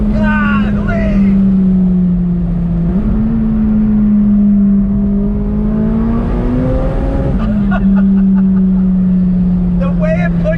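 A McLaren 570S Spider's flat-plane-crank V8 revs hard toward 8,000 rpm with the top down, a loud, steady engine drone rising and falling in pitch through gear changes, heard from inside the car with wind noise.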